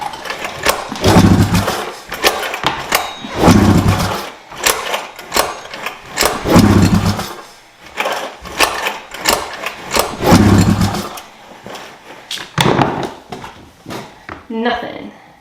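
An Arctic Cat M7 snowmobile engine cranks in repeated bursts after starting fluid is sprayed into the throttle bodies, a loud mechanical churning separated by pauses, with people talking between attempts.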